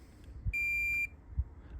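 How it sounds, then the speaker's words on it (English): Multimeter continuity tester on a Lancia Phedra alternator's stator winding gives one clear, steady electronic beep lasting about half a second, with faint probe clicks before and after. "We want to go on the side of them and hear them beep."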